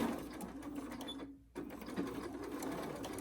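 A sewing machine runs steadily while stitching pleated face masks assembly-line style, its close, even whir stopping for a moment before starting up again.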